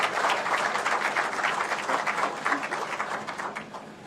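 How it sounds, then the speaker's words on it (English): Sustained audience applause filling a formal state gathering, dense and steady throughout with no voices on top, easing slightly toward the end. "So we can give him a round of applause."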